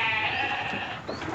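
A goat kept by a farmer gives a single sustained bleat, close and clear, lasting over a second with a wavering tone and a brief second cry at the end.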